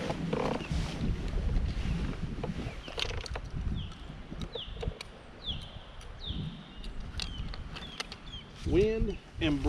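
Gusty wind buffets the microphone on a kayak fishing trip on Watts Bar Lake, a steady rumbling roar that swells and eases, with someone talking over it and small clicks and rattles of fishing gear.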